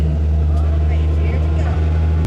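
A rented Polaris Slingshot three-wheeler driving around St. Pete, Florida, giving a steady low droning motor hum with continuous road and wind noise, loud and close throughout.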